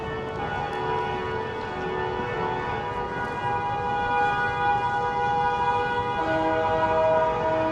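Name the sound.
city sirens and car horns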